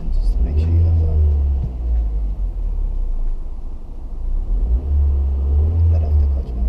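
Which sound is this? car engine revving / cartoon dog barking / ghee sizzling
car engine revving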